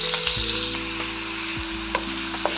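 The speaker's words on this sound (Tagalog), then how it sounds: "Ngayon po ay sisimula na natin igisa itong ating bawang. At isunod ko na agad itong ating sibuyas." Garlic followed by onion sautéing in cooking oil in a pan, a steady close sizzle with a few soft clicks of stirring and no talk.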